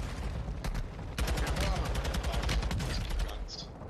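Rapid automatic gunfire in a first-person shooter video game, dense repeated bursts of shots close by, with faint voices underneath.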